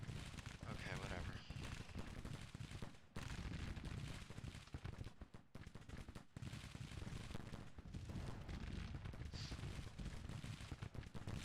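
Dense, continuous battle noise from a video game, with cannon blasts and infantry gunfire layered into a loud, steady roar and sharp reports throughout, mixed with some speech.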